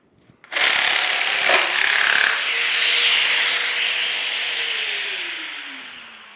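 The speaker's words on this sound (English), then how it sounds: "We then hold the machine up against a firm surface, swish it on and push forward, and we then cut a slot into the splinter guard" A Festool PS420 Carvex pendulum jigsaw starts abruptly and cuts a slot into its own splinter guard, a loud close buzzing whine with a rough rasp that holds steady and then slowly winds down as the motor slows.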